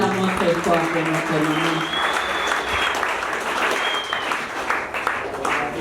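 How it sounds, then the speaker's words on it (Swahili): Loud, sustained applause fills a church service, with the crowd clapping steadily throughout alongside some voices. "Tupige makofi sana."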